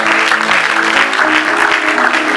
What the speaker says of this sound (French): Est-ce qu'on peut acclamer pour le roi de gloire?